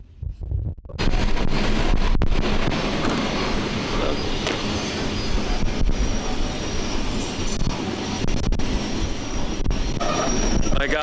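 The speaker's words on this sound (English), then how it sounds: "My god, the train is finally coming to a stop." A cargo train crossing the Sahara brakes toward a stop, loud rumbling wagons and grinding wheels with squealing metal, heavy wind buffeting the microphone throughout.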